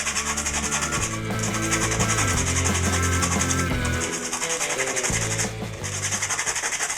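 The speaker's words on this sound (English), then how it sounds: "now I'm using some sandpaper and clean up all those edges left" Sandpaper rubs back and forth over cut PVC pipe edges, a close, loud, rhythmic scratching in repeated strokes with brief pauses.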